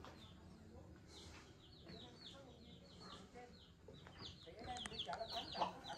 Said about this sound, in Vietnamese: đây là chú cũng có nuôi gà, trang trại nuôi gà